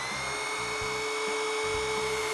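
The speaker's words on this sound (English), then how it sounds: "I hooked up the cordless drill and it got no oil pressure." Cordless drill spinning a small-block engine's oil pump, a steady high whine with a pulsing low churn, close and continuous.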